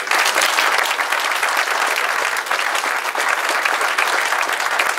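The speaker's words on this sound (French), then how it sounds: "je pense qu'on va les applaudir très très fort" Loud, dense applause from an audience at a Gault Millau restaurant awards ceremony, sustained clapping for the full five seconds with a faint murmur of crowd underneath.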